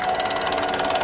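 An AC sliding gate opener halts at its magnetic stop, a close, loud, steady mechanical grinding and whirring that holds level for about a second.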